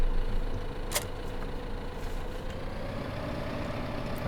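A tractor engine pulling a big front-linked mower in Farming Simulator 2015 drones steadily at low volume, with a faint constant hum and one brief sharp click partway through.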